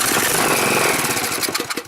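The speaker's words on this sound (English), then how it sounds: "Alright, so the motor runs." The small gasoline engine of a Husqvarna rear-tine tiller runs with a loud, rough, close-up chatter, then sputters into uneven pulses as it dies away at the end, with no speech over it.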